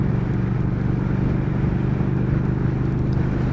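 A 2019 Triumph Speed Twin motorcycle being ridden, its engine holding a steady, full low drone around 3000 rpm, loud and continuous with wind noise and no voices.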